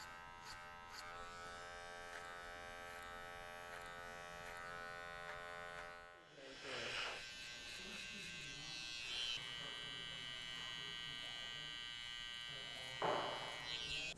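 Electric hair clippers hum steadily and close during a haircut using a clipper-over-comb technique, a continuous buzz that shifts briefly in tone midway as the blade meets hair, with no talk.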